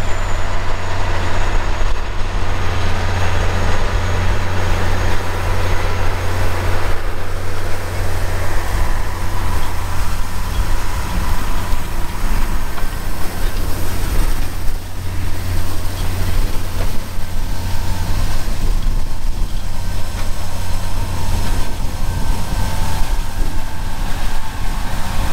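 A tractor seeding a field, setting off on its third lap, gives a steady, loud low-frequency engine drone with broadband machinery rumble throughout, continuous and unbroken, with no voices.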